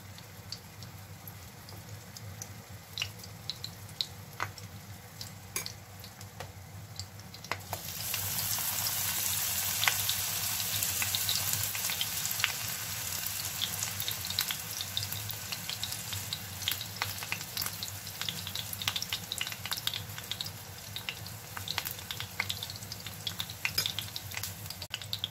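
Eggplant slices fry in a pan with a steady, close sizzle that turns louder and brighter partway through, then keeps crackling and popping evenly to the end.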